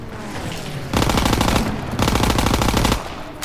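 A Thompson submachine gun fires in a World War II shooter game in two sustained, loud automatic bursts of about a second each, rapid and rattling, with a short pause between.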